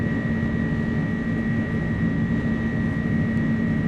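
Airbus A300 engines at takeoff power in Microsoft Flight Simulator 2024 give a steady, loud cockpit roar with a constant high whine layered over broadband rumble, unchanging throughout.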